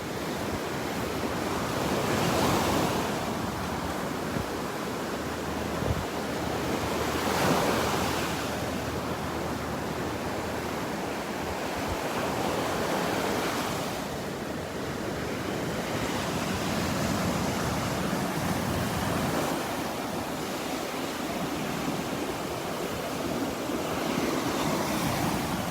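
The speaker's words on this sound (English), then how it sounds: "The waves are playing our song today. Listen to them." Ocean surf rolls in and breaks on a Gulf beach at Delnor-Wiggins in Naples, loud and continuous, with swells cresting every few seconds over steady wind noise and no voices.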